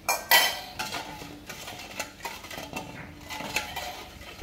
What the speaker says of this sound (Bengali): ঢেলে দিয়ে আবার একটু মিক্সড করে নিব।